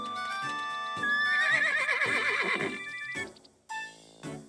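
A horse in a video game whinnies loudly and shrilly with a wavering, rising-and-falling cry, followed by a few shorter snorts and sounds, no talking.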